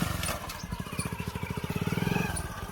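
A motorcycle engine runs close by with a rapid, even chugging rhythm of exhaust pulses that quickens slightly, and the engine note stays clear and prominent.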